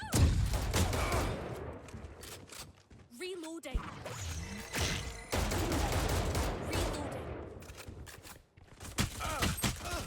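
Gunfire in the shooting video game Valorant, with bursts of shots, whooshes and thuds mixed with game sounds and intermittent talk.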